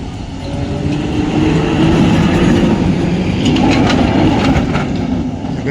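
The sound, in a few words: old tram running in Prague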